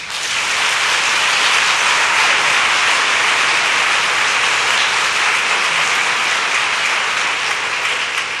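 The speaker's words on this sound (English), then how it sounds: "Please hold your applause." A crowd at a commissioners meeting breaks into sustained applause, a dense and loud wash of clapping that holds steady for about eight seconds without pause or voices.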